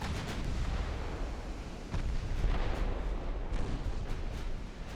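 A torpedo hit explodes on a warship during an 1897 Ottoman naval campaign in Ultimate Admiral Dreadnoughts, heard as heavy, continuous rumbling with several sharp bursts layered over dense battle noise.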